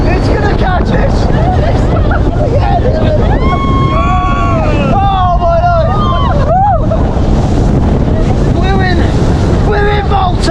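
A speedboat races across open sea off Malta toward caves in strong wind. Loud wind buffets the microphone and hull and spray roar continuously, while excited voices shout and talk throughout.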